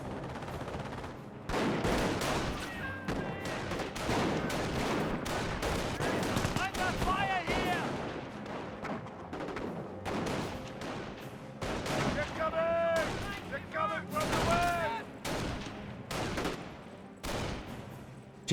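MG42 machine gun fire in the Company of Heroes video game, with repeated rapid bursts and scattered shots over a battlefield din, heard under a commentator talking throughout.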